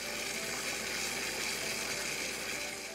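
Clean running water gushing steadily from a newly installed tap on Ebeye in the Marshall Islands, a continuous broadband flow holding even, close and moderately loud throughout with no voices.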